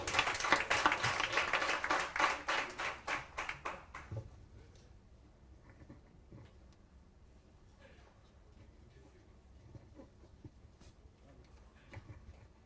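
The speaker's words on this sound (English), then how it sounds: "Let's please encourage them with a clap." A crowd at a student agribusiness pitch event claps steadily and loudly for about four seconds, then it stops abruptly, leaving quiet room noise with faint distant voices.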